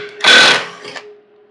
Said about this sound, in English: most people have an impact driver to be able to do it this way